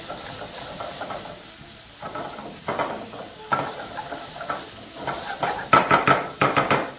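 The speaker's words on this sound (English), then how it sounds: "all you need to do now is fry those and just get them a little fragrant" Onions fry in a pan for spaghetti bolognese, with a steady oily sizzle close up. Stirring and scraping bursts come and go, growing louder and more frequent toward the end.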